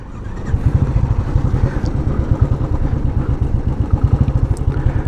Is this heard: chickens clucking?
no